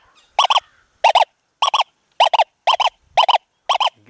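A Deus 2 metal detector in Gold Field mode sounds seven short paired electronic chirps at regular intervals, each a sharp double beep, loud and clear against silence.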